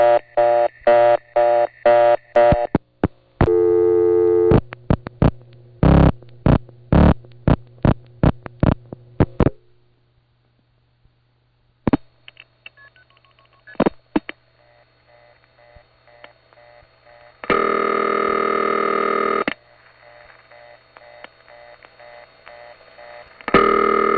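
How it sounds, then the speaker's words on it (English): Telephone line tones from a 1970 New York City crossbar exchange call: rapid bursts of dialing tones, then a fast repeating busy-style reorder signal with longer ringing tones, electronic and filtered. "The next call features a ringtone that has reorder in the background"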